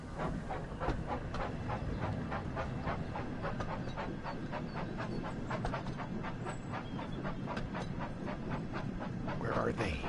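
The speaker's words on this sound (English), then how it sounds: "We got a runaway train coming in." A runaway train in the Wonders of Sodor video game chugs along with rapid, regular puffing beats throughout, under a steady bed of rolling noise.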